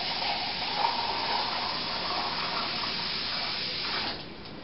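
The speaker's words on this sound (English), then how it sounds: "Now I'm going to go ahead and fill it up with water" Tap water running steadily into a pot of chili, a close, continuous hissing gush that fades near the end, with no talking.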